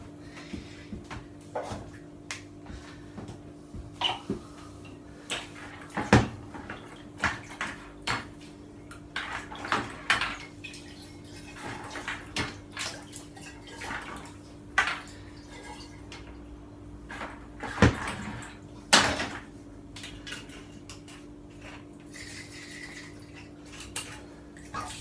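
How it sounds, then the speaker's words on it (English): Water sloshing and dripping as a cleared wine bottle is sanitized for homebrewing, with quiet glassy clinks and knocks scattered over a low background hum. "I got here a wine bottle that I cleared, and I'm gonna sanitize it now"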